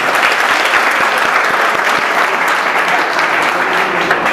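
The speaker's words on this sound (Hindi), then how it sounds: "एक बार जोरदार ताली हो जाए बच्चों के लिए।" At a felicitation ceremony, a crowd gives loud, continuous applause for students who scored 90 and above. The dense clapping stays steady and full throughout.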